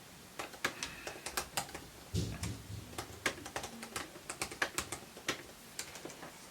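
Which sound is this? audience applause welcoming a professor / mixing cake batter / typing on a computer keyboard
typing on a computer keyboard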